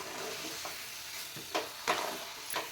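A carrot and khoa mixture sautés in a pan over low gas, with a soft steady sizzle broken by a few scraping stirs of a spoon, close and fairly quiet.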